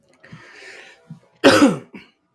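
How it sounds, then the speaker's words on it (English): One person coughs a few times at close range during a live-streamed panel on navigating the pandemic. A short throat-clearing comes first, then one harsh, loud cough and a smaller one after it, with no talk. "coughing on the live stream, I think is quite on topic and brand."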